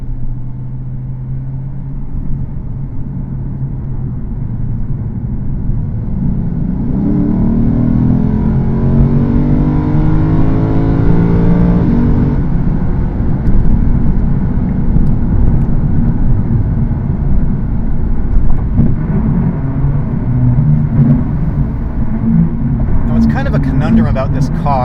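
A Lexus RC F with its V8 engine drones steadily from inside the cabin on Fuji Speedway, rising in pitch as it accelerates, while someone talks over it throughout.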